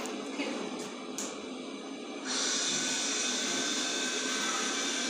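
A small smart cleaner for elderly people, used to pull cobwebs from corners, switches on after a few faint clicks and runs with a loud, steady vacuum-like whine.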